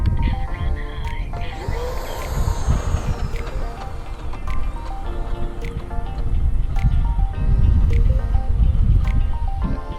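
An RC EDF parkflyer jet (Eclipson COBRA) taxiing on grass with its electric ducted fans run high, giving a loud, sustained whine with shifting tones and outdoor wind rumble.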